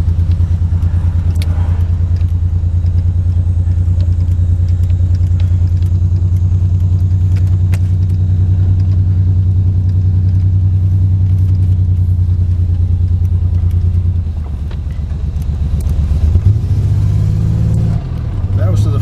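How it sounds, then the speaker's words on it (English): A G-body car engine with a bad ECM runs in a loud, steady low rumble from inside the cabin, uneven and not firing on all cylinders, with a brief dip and change in tone near the end, and a voice talks over it. "It definitely not hitting on all cylinders."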